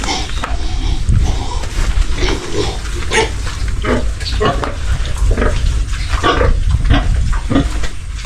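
Goats and newborn kids on a farm, with bleating calls rising in quick overlapping bursts above a steady rustling background, while a voice talks intermittently nearby.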